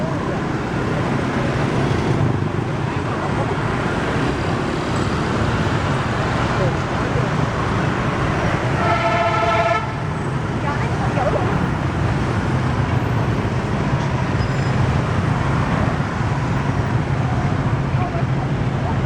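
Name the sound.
street traffic with cars and motorbikes in Vietnam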